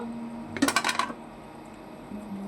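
A metal lid lifted off a cooking pot of mango semolina cake gives a short cluster of bright clanks and rattles, then quiet kitchen hum.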